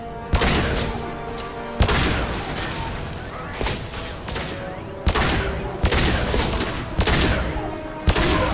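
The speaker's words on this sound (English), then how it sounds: "Firing concussive shots!" Heavy concussive blasts from Mass Effect 2 combat boom again and again, about every second or so, each sharp hit trailing into a loud, dense wash of explosive rumble and debris.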